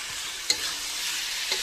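Potato pieces fry in a pan of hot oil with a steady bright sizzle, and a spoon scrapes through them in two sharp strokes about a second apart.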